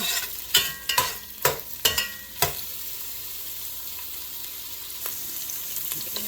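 Onions sautéing in a pan for pork sinigang, with several sharp stirring scrapes and clatters in the first few seconds, then a steady soft sizzle carrying on alone.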